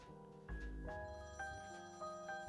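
A telephone rings in a steady electronic pattern, each repeating burst of tones close and clear, with no voices over it.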